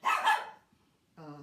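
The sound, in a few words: dogs barking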